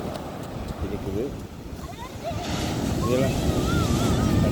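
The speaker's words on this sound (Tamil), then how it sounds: "இதெல்லாம் கடல் அலையும்" Sea waves wash steadily at Sanguthurai beach, a broad continuous surf roar with wind on the microphone, swelling slightly louder, while children's voices and playful calls ring out over it.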